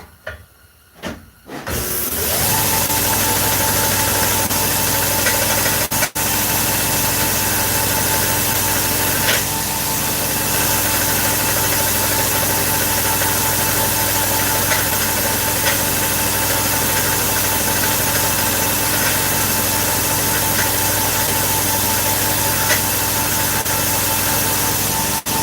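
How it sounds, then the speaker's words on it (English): Grinder running on an engraved coin in a shop, a loud, steady, continuous whirring hiss that starts after a brief quiet moment and holds unbroken throughout. "I can try to grind it a little bit more."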